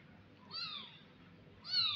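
An abandoned calico kitten meows twice, thin rising-falling cries about a second apart, clear and close against a quiet background.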